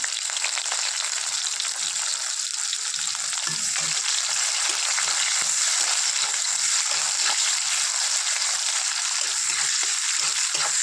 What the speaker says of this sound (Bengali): তারপর দুটো কাঁচা লঙ্কা দিয়ে দিলাম, 5 ফোড়ন দিলাম, আর এর উপরে পেঁয়াজ দেবো